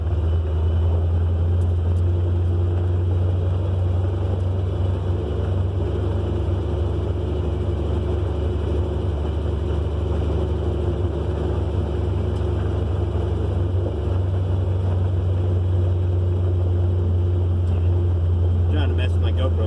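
Steady low rumble of a vehicle rolling along a gravel country road, with continuous tyre and engine drone close by and no one talking.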